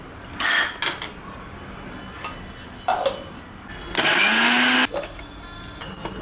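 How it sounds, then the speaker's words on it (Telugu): A mixer grinder grinds sesame seeds, garlic and cumin in short bursts: two brief whirs, then a louder run of about a second whose motor pitch climbs as it spins up. "మిక్సీ పట్టుకోవాలి."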